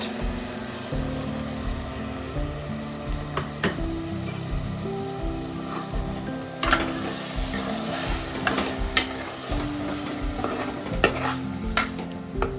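Tomato puree fries in a pan and is stirred into a dhaba-style chicken curry. A steady close sizzle runs throughout, broken by sharp scrapes and clicks from the stirring.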